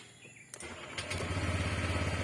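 A Honda Click 125 FI V3 scooter cranks with a couple of quick starter bursts, then catches and settles into a steady, close, pulsing idle.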